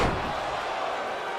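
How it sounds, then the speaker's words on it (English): Loud slam of a wrestler crashing down in the ring during a live wrestling show, booming through the arena over steady roar of a capacity crowd, with no clear break in the noise. "You can hear that crash echoing even with this capacity crowd."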